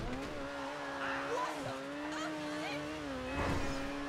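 An Overflod Entity MT supercar in GTA 5 drives through hills, its engine droning steadily with shifting pitch and brief tire squeals, loud and close throughout.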